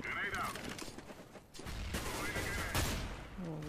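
Rapid bursts of gunfire crackle in quick volleys, loud and close, with other game sounds and some voices mixed in, from Counter-Strike: Global Offensive.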